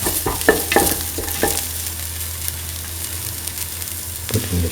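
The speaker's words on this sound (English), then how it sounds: "Saute." Ingredients sautéing in a pan for a lentil and winter melon stew, with a steady sizzle and a few scraping stirs near the start, close and moderately loud, no talk.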